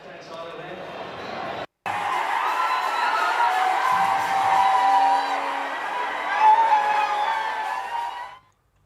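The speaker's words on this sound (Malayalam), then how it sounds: "ഒടുവിൽ അർജന്റീന വിജയം സ്വന്തമാക്കിയപ്പോൾ മെസ്സി ആരാധകരുടെ കാതടപ്പിക്കുന്ന ആരവങ്ങൾ ഉയർന്നു" Messi fans roar and cheer loudly after an Argentina victory, a dense, sustained crowd of shouts and whoops that briefly drops out before swelling again.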